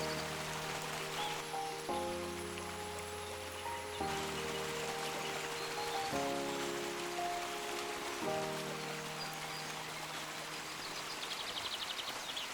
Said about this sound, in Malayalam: ഇടയ്ക്കിടയ്ക്ക് പെയ്യുന്ന ചാറ്റൽ മഴ